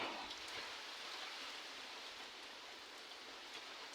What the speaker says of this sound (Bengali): এখন বৃষ্টিতে ভিজে ভিজে তো রান্না করা সম্ভব না